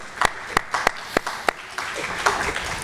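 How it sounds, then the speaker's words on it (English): Sparse clapping from a small audience at a college public policy forum, a handful of sharp separate claps at first that thicken into light scattered applause. "It's worth clapping for, right?"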